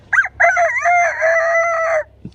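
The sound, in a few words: child imitating a rooster crowing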